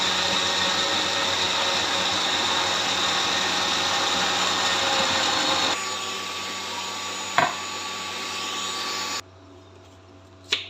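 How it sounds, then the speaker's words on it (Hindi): A blender whirs continuously through a strawberry smoothie, loud and steady before easing to a lower hum, with a couple of short clicks and a final stop near the end. "जस्ट इसको ब्लेंड करेंगे और ये बहुत ही हेल्दी और फिलिंग सी हमारी स्मूदी जो है तैयार हो जाएगी।"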